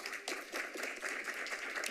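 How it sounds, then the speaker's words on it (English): Distant, faint clapping from a small group at a planning commission meeting, steady and continuous for a couple of seconds. "let's give her a round of applause"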